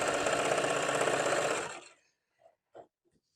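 A sewing machine stitches a fabric tube for a jelly roll rug, running in a steady loud whir for about a second and a half before stopping, followed by a few faint small clicks and handling noises.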